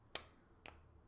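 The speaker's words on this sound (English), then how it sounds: "So what we are going to do is tap, clap, snap." Two crisp finger snaps ring out as body percussion in a children's music lesson, sharp and close, about half a second apart, with nothing else around them.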